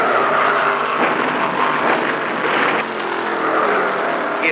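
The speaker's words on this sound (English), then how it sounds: "On the front stretch, it's Shepherd, Allison." Stock cars roar past on the front stretch at the 1975 Permatex 300, a loud, continuous engine drone with no voices over it.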